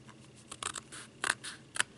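Scissors cut cardboard in a few quick, crisp snips close by, with short pauses between cuts in an otherwise quiet room.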